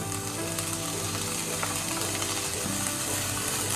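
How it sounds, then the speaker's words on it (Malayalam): Tomatoes stirred into a frying masala for paneer butter masala, giving a steady, close sizzle with faint scraping of the spoon throughout, no voices. "നമുക്ക് ഇതിലോട്ട് തക്കാളി ആഡ് ചെയ്ത് കൊടുക്കാം"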